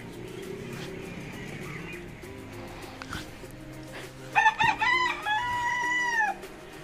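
American Silkie chickens at a poultry show cluck, then one crows in a loud drawn-out call, with a dog barking and general barnyard noise around them.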